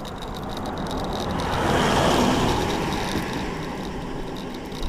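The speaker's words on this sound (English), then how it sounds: "Oh, car coming." A car passes on a road during a bike ride after a steering stem repair, its broadband roar swelling to a peak near the middle and then easing away, heard alone over steady wind and road noise.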